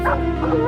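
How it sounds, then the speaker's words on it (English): Bay dogs released to hunt wild boar give out a loud, close, drawn-out yelping bark with a whining, excited tone, filling the whole brief moment. "the bay dogs are released. And like guided rockets, head straight for the wild boar"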